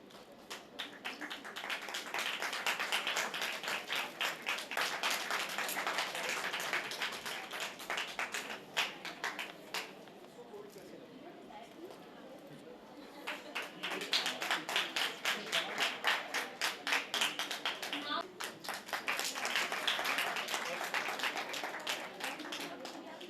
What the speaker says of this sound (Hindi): जो ताली बजा रहे जी सर।